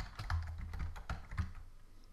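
Typing on a computer keyboard brings a quick run of close, crisp key clacks in an uneven rhythm, heard without any talking.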